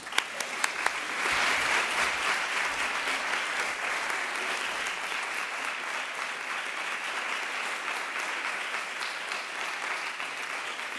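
An audience welcomes conductor Marin Alsop to the stage at an education lecture with sustained applause that swells quickly and holds steady without fading.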